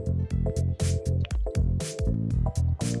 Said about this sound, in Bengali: এক এক করে আমি সবগুলো ভেজে নিচ্ছি